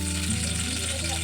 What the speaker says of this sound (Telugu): ఆయిల్ వేసిన కదా, ఆయిల్ వేడైంది. 2 పచ్చిమిరపకాయలు